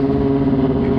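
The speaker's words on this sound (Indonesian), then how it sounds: "motor knalpotnya tuh keras banget" A steady, loud, low-pitched motorcycle exhaust drone with a strong humming tone, heard up close without any speech.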